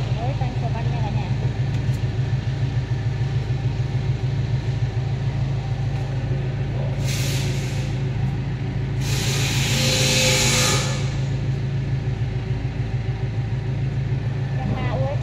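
Yanmar US36 tractor, a 36-horsepower machine, with its diesel engine running in a steady low rumble close by, two hissing bursts partway through, and someone talking over it.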